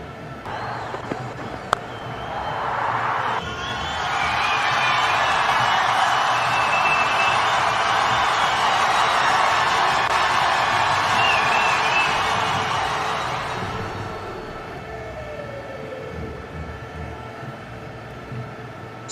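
A huge stadium crowd at an IPL 2025 Gujarat Titans versus Lucknow Super Giants cricket match in Ahmedabad lets out a sustained roar that swells quickly, holds for about ten seconds, then fades back to a low murmur.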